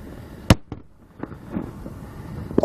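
A blasting charge detonates in the mountains, a single sharp loud boom near the start followed by fainter thuds and rumbling echoes, with a second smaller burst near the end.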